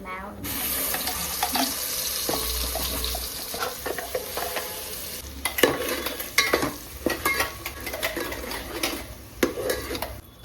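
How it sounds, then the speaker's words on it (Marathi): Ground spice paste with sesame seeds sautés in oil for Surti undhiyu, giving a steady close sizzle under repeated stirring and scraping of a spoon against the pan, with clinks growing busier toward the end. "ते जरा तेलात परतून घ्यायचंय मला"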